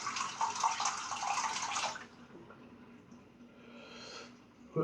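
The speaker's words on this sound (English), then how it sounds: "Just drain some water." Water gurgles and rushes down a sink drain while shaving, loud and turbulent for about two seconds, then settling into softer trickling and draining sounds.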